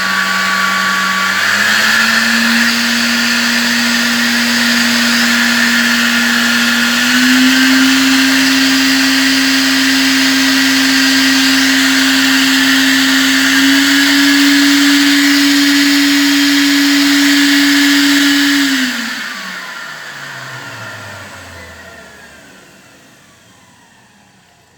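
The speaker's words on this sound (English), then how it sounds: "This noise is basically the noise of the rotor. Basically, we are increasing the speed of the rotor." A centrifugal compressor rotor gives a loud, steady mechanical whine with a rising tone as it spins faster, holding high before winding down and fading away.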